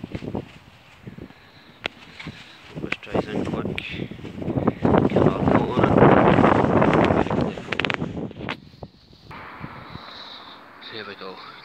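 Strong wind blowing across a microphone outdoors while a front car grille is spray painted, heavy buffeting rumble that swells in the middle, with someone talking over it.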